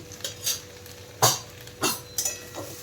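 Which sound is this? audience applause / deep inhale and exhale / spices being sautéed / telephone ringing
spices being sautéed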